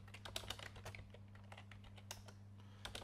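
Keys clatter on a computer keyboard as someone types Linux commands, irregular quick clicks in bursts, faint and close over a steady low electrical hum.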